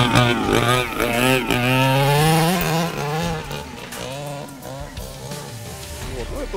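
A model car's small engine, part of an automodelling sport demonstration, runs loudly with a raspy, buzzing drone that rises and falls in pitch; people talk nearby over it.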